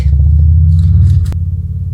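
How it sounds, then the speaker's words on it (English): Low, steady traffic rumble from a road outside, with a brief sharp click or knock near the end, heard through an indoor room with no talking. "sorry for the noise. It's the traffic."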